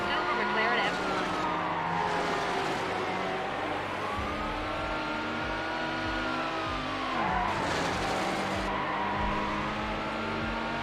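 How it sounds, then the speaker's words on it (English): A silver McLaren F1 in a high-speed police pursuit in Need for Speed Hot Pursuit 2, its engine droning continuously with pitch sweeps and tire noise, overlaid by a police radio voice. "27 in high-speed pursuit. Vehicle is a silver McLaren F1."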